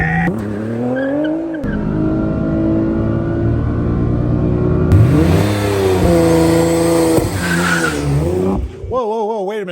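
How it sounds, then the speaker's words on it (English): A Nissan GT-R R35 on cheap tires launching hard, its engine revving and climbing through gears with loud tire squeal and wheelspin, close and intense, then cut off abruptly near the end. "Was that front tire spinning on that launch?"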